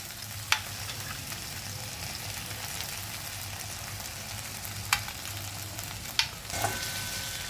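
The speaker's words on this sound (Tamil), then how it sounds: "இது நல்லா வதங்கி எடுத்துப்போம்." Brinjal curry sautés in a pan with a faint, steady sizzle, broken by a few sharp clicks of a spoon against the pan.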